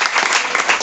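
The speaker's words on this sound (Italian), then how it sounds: "Facciamo un altro applauso" An audience claps after a reading at a book event, a short, loud, dense burst of applause heard up close.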